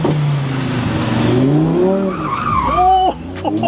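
A sports car, likely a Lamborghini Aventador, slides sideways with loud, sustained tire squeal over a roaring engine, the skid pitch sweeping upward before cutting off near the end.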